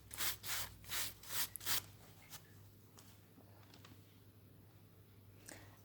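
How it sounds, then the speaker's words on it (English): Plush brush scrubbing nail prep onto a fingernail, several quick soft bristly rubbing strokes close up in the first two seconds, then faint scattered scuffs in quiet. "I scrub it in with my Plush brush."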